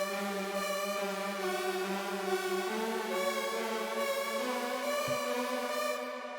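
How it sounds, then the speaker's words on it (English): A warped synth lead plays a bright, buzzy melody, its harmonic-rich tones sliding between sustained notes at steady loudness, with no voices. "So then the next sound that I have here is this lead"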